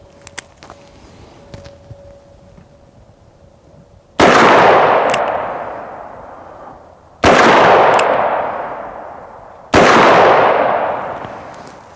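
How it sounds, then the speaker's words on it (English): .44 Magnum revolver shots fired at AR500 steel body armor on an outdoor range, three loud, sharp blasts spaced a few seconds apart, each ringing out in a long decaying echo, after a quieter stretch of faint clicks and handling noises. ".44 Magnum."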